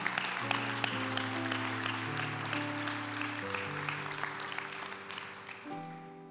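A church congregation at a conference gives dense, sustained applause that gradually fades, with held keyboard chords playing beneath the clapping throughout.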